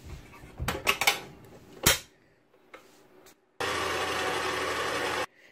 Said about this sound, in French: Et je vais ajouter les 2 œufs. Et nous allons mélanger.